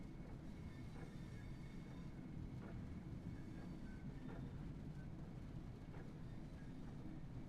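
A train pulling into Raynham station in the Train Sim World 6 game: a steady, dense rolling rumble with faint rhythmic wheel clicks spaced through it, continuous and even in level, with no voices.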